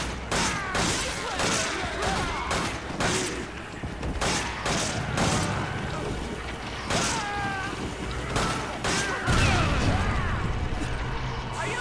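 Grenade explosions and bursts of gunfire in Resident Evil 5, a chaotic run of sharp shots, thuds and booms with clanking mechanisms, fairly close and under occasional game voices.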